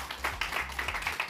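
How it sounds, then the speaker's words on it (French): A small, socially distanced audience applauds arriving guests at a building and public works careers event in the Ain, with a brief burst of close, uneven hand claps. "on va les applaudir, s'il vous plaît"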